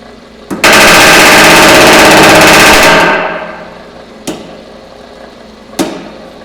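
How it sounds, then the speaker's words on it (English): Motor-driven handmade shrinking dies hammer through a pass on sheet metal in a loud, rapid machine-gun-like clatter lasting about two seconds, followed by a few single sharp clanks. "So I got my dies back in, I got the motor running."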